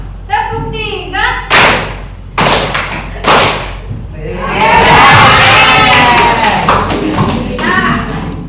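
Classroom children clap in unison for an ice-breaking counting game, with loud sharp bursts of claps in a few groups, followed by excited shouting and cheering from the class.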